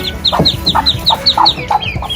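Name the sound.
mother duck making agitated calls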